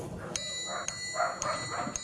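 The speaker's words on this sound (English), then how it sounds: "The dogs decided to go crazy" Dogs bark in short bursts at a distance, several yaps spaced about half a second apart over a steady background hum.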